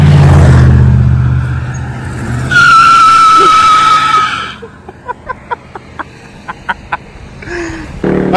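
A cheap, worn-out car does a burnout, a loud close engine roar followed by a sustained high tire squeal, then the engine drops to a rough idle with short revving blips.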